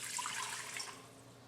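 Filtered water pours into a pot for cooking millet, a soft continuous splashing trickle that stays faint and close and tapers off toward the end.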